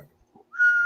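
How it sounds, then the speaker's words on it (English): A single steady whistled tone from a man in a studio sports-talk setting, held clean and fairly loud for under half a second after a brief quiet stretch. "Eric is whistling"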